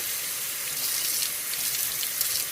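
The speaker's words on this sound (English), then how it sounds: "I'm just going to use some extra, so you can see the steam, extra hot water" Extra-hot water runs from a kitchen tap into a sink, a steady close hiss of flowing water throughout with no talking.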